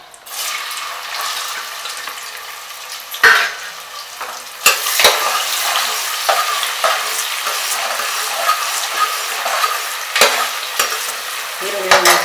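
Onions sizzle steadily in a hot pan for channa masala while a spoon stirs and scrapes them, with a few louder knocks against the pan over the constant frying hiss.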